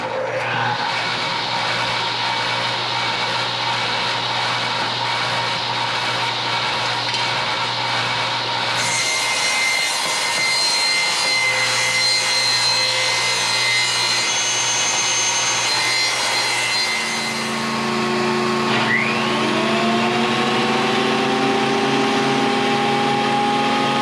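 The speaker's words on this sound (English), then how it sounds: "let's get this piece through the table saw" A table saw cuts through a wood board with a loud, close, sustained whine. The blade's tone shifts and drops as it runs through the cut, then spins down toward the end.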